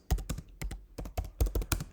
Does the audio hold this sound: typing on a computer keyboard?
yes